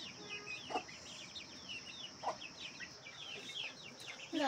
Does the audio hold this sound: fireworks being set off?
no